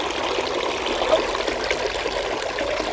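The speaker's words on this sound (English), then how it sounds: "It's running and sounding beautiful. I love to hear that water noise again." A repaired garden fountain runs continuously nearby, with a steady, even rush of running and trickling water and no pauses.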